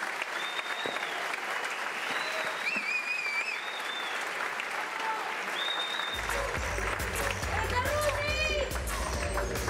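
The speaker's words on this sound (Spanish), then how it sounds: "Fuerte el aplauso para Vicky Rundi." A crowd applauds without pause at a stand-up comedy show at the Manso Comedy Fest 2017 in Mendoza, Argentina, with scattered whistles and cheers above a dense, sustained clapping wash.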